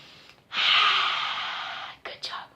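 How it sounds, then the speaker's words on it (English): A person takes one long, close, airy inhale lasting over a second, followed by two short breathy puffs. "sit back a little bit, take a breath"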